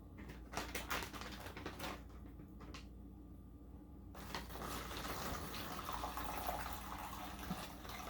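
Tap water runs steadily into a self-heating meal pouch at a kitchen sink, a continuous rushing flow that briefly drops and then resumes, close and fairly loud with no talking.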